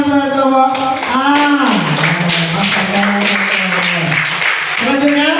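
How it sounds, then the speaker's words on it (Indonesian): Classroom audience claps for a student group during a teaching session, a steady patter of hand taps running under a voice that talks or chants over it. "Tepuk tangan buat kelompok A."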